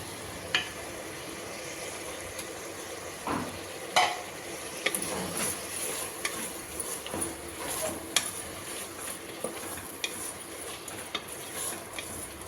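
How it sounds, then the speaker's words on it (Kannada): Fresh mint leaves stirred into a frying pan for capsicum rice bath, a steady sizzle under scattered spatula scrapes and clinks against the pan, quiet and close. "ಪುದೀನಾ ಸೊಪ್ಪು ತಗೊಂಡಿದ್ದೀನಿ ಅದನ್ನು ಕೂಡ ಸೇರಿಸ್ತಾ ಇದ್ದೀನಿ"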